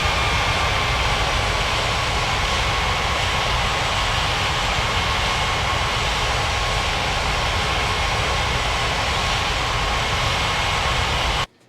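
Airliner jet engines roar steadily in a flight simulator game while the plane taxis, a continuous broadband rumble and hiss without breaks or voices.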